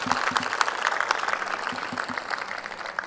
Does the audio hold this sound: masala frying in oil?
no